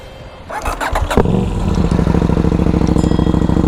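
A KTM 890 Duke 2022 motorcycle engine with the catalytic converter removed cranks briefly and catches, then settles into a loud, steady, throbbing idle close by.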